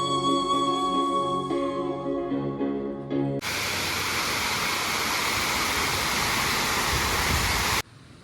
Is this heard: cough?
no